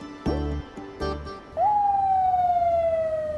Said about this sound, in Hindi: ये एम्बुलेंस की आवाज तुमने सुनी?